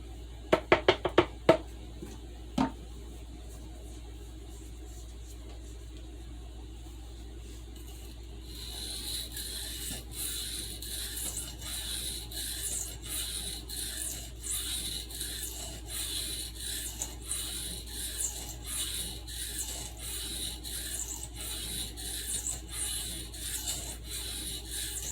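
A sharpening stone is cleaned after work on a stockman knife's sheepsfoot blade, starting with a few sharp clicks, then long stretches of firm, rhythmic rasping strokes, close and fairly quiet.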